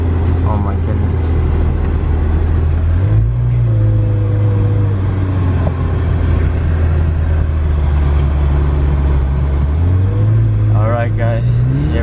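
A McLaren 720S accelerates hard, its engine note rising loudly twice in steady, close pulls, with a continuous engine drone in between. Excited voices can be heard over the engine from inside the car.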